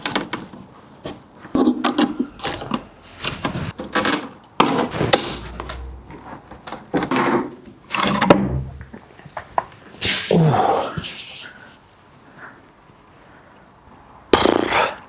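Wooden coffee table being taken apart by hand: a run of irregular knocks, thumps and wooden clatters, some sharp and close, with quieter scraping pauses and a final loud burst of knocking.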